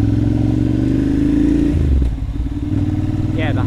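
A Ducati Monster 796 motorcycle rides slowly through city traffic in low gears, its engine a loud, close, uneven drone that dips briefly and then picks up again.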